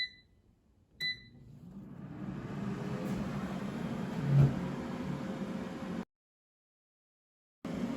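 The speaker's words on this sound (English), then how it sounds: "And now I will set the air fryer to 390 degrees Fahrenheit." An air fryer set to 390 degrees Fahrenheit cooks apple slices, giving a steady, close fan whir after a couple of short beeps. The whir cuts off abruptly and then starts again.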